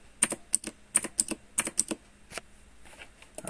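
Rapid keystrokes on a computer keyboard while a command is entered in a terminal, coming in quick irregular bursts of clicks with short pauses, close and clear with no talking.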